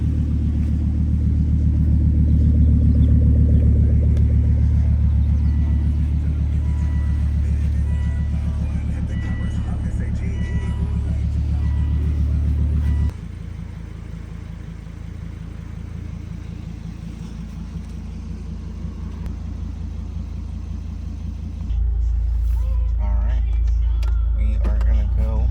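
A 2001-2009 front-wheel-drive Volvo S60 on a new Bilstein B12 Pro-Kit lowering suspension, its steady engine drone and road rumble heard from inside the car, with the level shifting as it changes speed.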